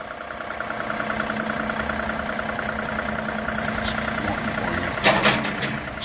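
A 2014 John Deere 3039R compact tractor engine running at slow speed, a steady close diesel drone with a faint rattle, and a brief louder knock near the end.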